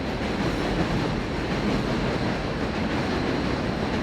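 New York subway train rumbling along overhead tracks in Queens, a loud, continuous roar with steady rail rattle heard from the street below, no voices.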